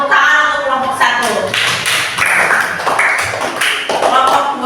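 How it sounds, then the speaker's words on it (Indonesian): A classroom claps for a student group after a water-cycle presentation, a burst of fairly close, steady hand clapping with voices mixed in throughout. "Tepuk tangan untuk kelompok 1"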